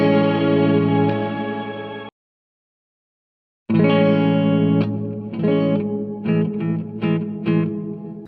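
Electric guitar played through a TC Electronic Hall of Fame 2 reverb pedal: a sustained chord rings out and cuts off, then after a silence more strummed chords and short stabs follow, loud and close.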